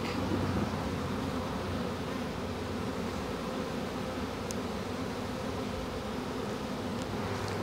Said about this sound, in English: all around the base of this skep now, there's more and more bees landing and coming down from the space